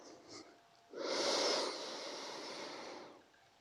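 Slow, deep breath drawn in during a yin yoga session, a soft airy inhale swelling after a quiet pause and then easing into a long steady exhale, close and alone with no talk.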